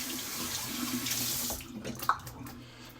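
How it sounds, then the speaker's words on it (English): Cold water pours from a tap into a frozen shaving scuttle in a steady close hiss that cuts off about halfway, followed by a few small clinks and a faint ring, with no talking. "And do a little cold water here as well."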